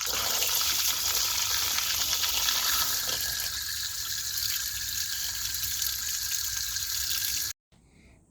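Water gushes steadily from a tap while raw chicken pieces are rinsed beneath it, a loud continuous splashing stream that cuts off abruptly near the end.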